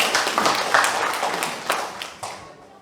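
Short burst of audience clapping at an Indonesian entrepreneurship simulation workshop, a scattered cluster of hand claps close by that thins and fades out within a few seconds.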